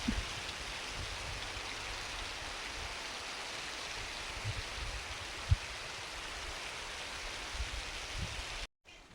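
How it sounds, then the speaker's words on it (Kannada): Steady rain falling on surfaces over a young areca nut plantation under heavy cloud, a continuous soft hiss with a few scattered louder drops, no voices. "ಮಳೆ ಬರ್ತಾ ಇದೆ."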